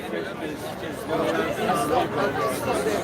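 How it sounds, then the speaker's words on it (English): Dense crowd chatter inside a packed New Hampshire brewery: a steady, loud hubbub of many overlapping voices with no single speaker standing out. "This crowd is getting deep."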